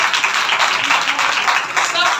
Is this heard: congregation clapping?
yes